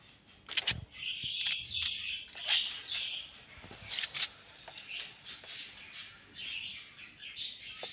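Small pet birds, adults and chicks, chirp and tweet repeatedly in short bursts nearby, a busy, scattered twittering with no talking.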